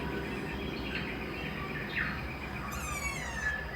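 Faint bird calls and chirps at Lake Wakatipu, New Zealand, scattered over a steady outdoor background hum, with a brief trilling song near the end.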